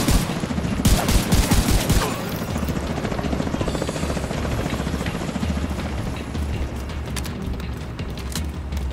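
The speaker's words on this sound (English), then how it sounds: "If I could shoot the helicopter down." Helicopter in The Division 2 thrumming loudly and steadily throughout, with bursts of automatic gunfire crackling over the rotor noise in the first couple of seconds, then continuing mixed with the engine drone.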